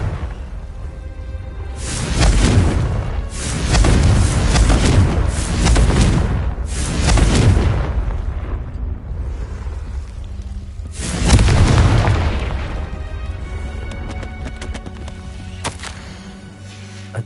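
Confringo spell blasts go off in Hogwarts Legacy as a series of loud, booming explosions with whooshing bursts, several in quick succession followed by one more after a pause, over a low ambient game background.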